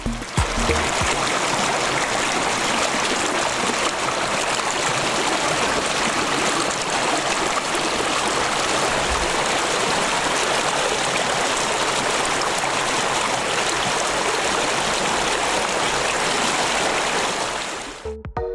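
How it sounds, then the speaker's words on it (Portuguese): A small stream of flowing water rushes steadily and fairly loudly at close range, a continuous bright babbling that holds unchanged for several seconds before ending abruptly. "Formam-se pequenos cursos de água,"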